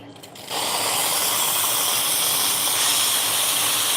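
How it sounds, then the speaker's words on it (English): Steam wand on a Lita espresso machine purging, a loud, continuous, consistent hiss bursting on abruptly and holding steady at close range. "The steam is very consistent."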